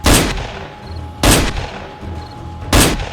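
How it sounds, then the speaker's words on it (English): Rifle fire in the zombie survival game 7 Days to Die: three sharp, loud shots spaced about a second and a half apart, each followed by a short decaying tail. "I was not so bad a shooter. Even with a not very high quality rifle as the one I'm using"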